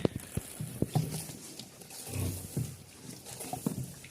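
Piglets in a pigsty grunt and squeal while waiting for feed pellets, a string of short close calls with brief pauses, louder bursts near the start and end.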